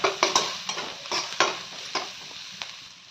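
Spices fry in a pan for a stuffed tomato curry, a soft sizzle broken by repeated sharp scrapes and taps of a spoon stirring, close by, with no speech.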